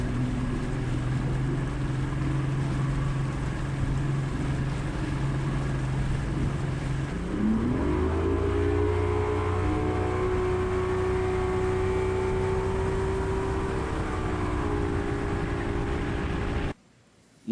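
Motor of a bass fishing boat running across a Middle Tennessee lake to a neighboring cove, a steady close engine drone that climbs in pitch partway through as it speeds up, with wind noise throughout and no talking.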